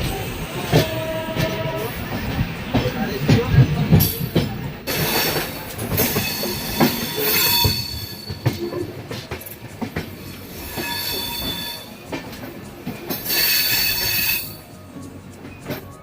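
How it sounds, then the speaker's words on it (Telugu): The Pinakini passenger train runs near Chennai Central, its wheels squealing in long high shrieks over a rumbling, clattering ride, loud and heard from on board, with no talking. "మనం ట్రైన్ మిడిల్లో ఉన్నామండి."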